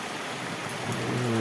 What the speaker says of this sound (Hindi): ज़्यादा बारिश हो गया है।